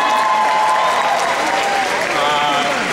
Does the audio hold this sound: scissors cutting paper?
no